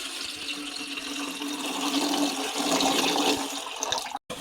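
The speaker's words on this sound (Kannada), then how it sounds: "ಒಂದು ಪಾತ್ರೆ ಇಟ್ಟು ನೀರು ಹಾಕಿ" Water running into a cooking pot set on the stove to heat for boiling spinach, a steady close rushing pour heard alone that cuts off abruptly near the end.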